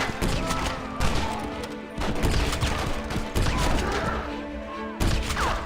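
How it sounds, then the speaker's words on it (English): Gunfire from a shotgun in the Red Dead Redemption video game, loud blasts at about one-second intervals among chaotic battle noise, with some speech in between. "What a strange sound for the shotgun."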